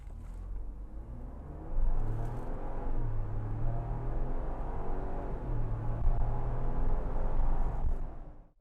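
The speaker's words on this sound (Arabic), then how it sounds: "هني بنجرب تسارع السياره من 0 ل 100." A 2022 Ford Bronco accelerates hard from a standstill, a steady close engine rumble building and holding for several seconds before cutting off.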